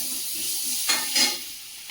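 Ridge gourd curry with black cumin and sliced onion frying in a hot wok, a steady close sizzle with two brief louder bursts of hiss as the pan is stirred.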